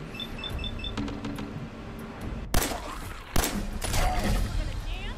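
Gunfire at ghouls in the video game Fallout 4, two sharp, loud shots ring out over muted game sounds and beeps, with faint speech in the background.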